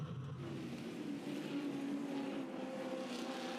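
Pack of V8 Ute race cars, Ford against Holden, charging toward the first corner of a circuit race; a steady, distant engine drone with rising and falling tonal whine, continuous throughout.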